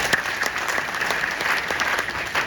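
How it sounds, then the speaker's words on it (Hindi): Enthusiastic audience applause fills a seminar hall, a dense and steady burst of clapping from a large crowd that lasts the whole moment. "एक बार जोरदार तालियां उनके लिए।"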